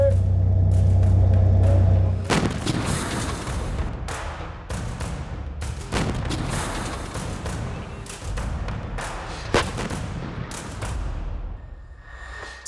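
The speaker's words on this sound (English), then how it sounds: "Seven types of ammunition can be fired from the 120mm tank gun." A 120mm tank gun fires in several heavy, booming thuds spread irregularly over the stretch, following a low mechanical hum at the start, with a rumbling tail after each blast.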